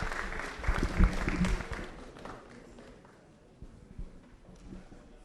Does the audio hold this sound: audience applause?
yes